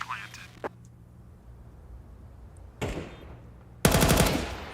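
Tec-9 pistol fire in a Counter-Strike esports match at IEM Rio 2024: a short crack, then two loud, rapid bursts of gunshots, the last one sustained and close, over quiet background game noise.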